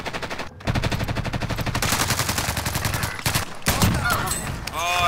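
Rapid bursts of automatic gunfire in Call of Duty: Warzone crackle in quick succession, loud and continuous, with a few separate shots and a short voice near the end.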